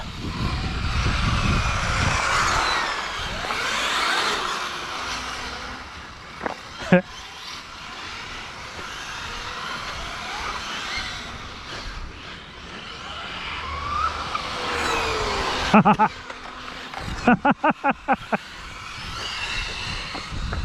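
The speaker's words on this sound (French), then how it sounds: "Alors le freinage sans le capteur est bizarre." A Kamtar vehicle braking without its sensor drives with a continuous engine and road rumble, then gives a run of sharp clunks and rattles near the end, while people talk over it.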